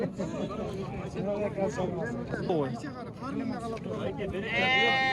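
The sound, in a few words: sheep and lambs bleating at a livestock market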